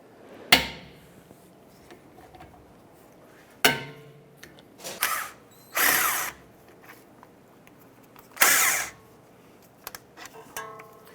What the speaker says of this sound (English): loosen and remove the two brake caliper slide pin bolts